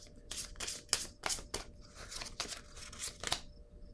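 A tarot card is drawn from the deck with a quick series of crisp paper slides and riffling snaps, close and quiet, about a dozen short bursts in uneven rhythm.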